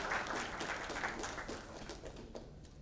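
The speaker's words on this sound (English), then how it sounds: "a huge round of applause" Audience applause at a startup fundraising event, a steady wash of many hands clapping at moderate distance, fairly even throughout with no voices standing out.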